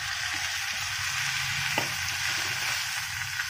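Tomatoes frying with softened onions in a pan for restaurant-style butter chicken, a dense, even sizzling hiss with faint stirring touches, close and steady for the whole stretch.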